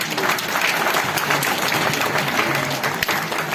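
A seminar audience applauds steadily and loudly, a dense wash of clapping hands that holds without letting up for several seconds.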